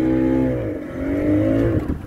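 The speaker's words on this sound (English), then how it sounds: "engineers, fire up the engine so we can set sailing" A boat engine starts up for a river crossing on the Gambia River from Banjul, settling into a loud, close, droning hum that dips and then rises in pitch over a couple of seconds.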